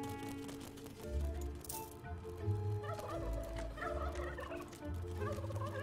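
Turkey-like gobblers in the video game Dungeons 3 let out bursts of throaty gobbling over quiet game music and ambience, several calls overlapping within a few seconds.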